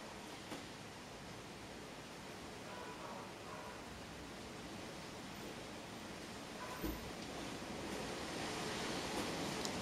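A river in Venezuela flows with a steady, broad rushing wash, soft and continuous, swelling a little toward the end.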